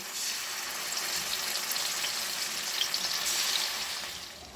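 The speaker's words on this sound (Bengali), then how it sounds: "এবারে আস্তে আস্তে করে ইলিশ মাছ যেগুলো মেখে রেখেছিলাম সেগুলো দিয়ে দিচ্ছি" Hilsa fish pieces sliding into hot mustard oil in a pan, giving a steady, moderately loud broadband sizzle with a slight swell toward the end, no voices.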